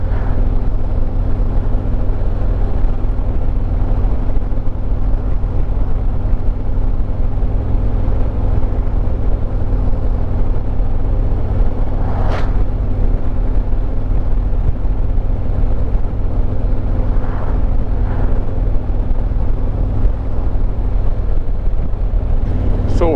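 A Harley-Davidson Road Glide Limited motorcycle on an after-work ride: a loud, constant engine drone mixed with wind rush, steady throughout, with a couple of brief passing swells.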